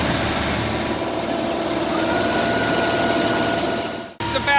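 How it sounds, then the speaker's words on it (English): A Nuvair Voyager IV low-pressure compressor runs with a loud, steady mechanical drone and hum that cuts off abruptly near the end, followed by a brief shift in tone. "We can start our low pressure compressor."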